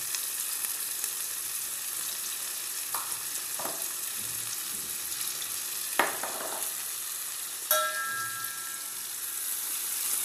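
Onions sautéing in a pan with salt for ginger chicken dry, a steady soft sizzle with occasional stirring clinks and scrapes, no talking.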